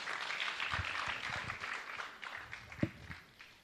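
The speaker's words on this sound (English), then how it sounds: "A round of applause to him once again." Audience applause at a public participation forum on a finance bill in Mombasa, a steady wash of clapping that swells and thins over a few seconds, moderately distant, with a couple of sharper claps standing out near the end.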